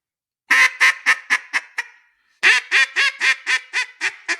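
A duck call is blown in a descending cadence: two runs of loud, close quacking notes, each run stepping down with the notes growing shorter, separated by a brief pause.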